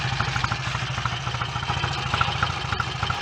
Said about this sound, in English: The engine runs beautifully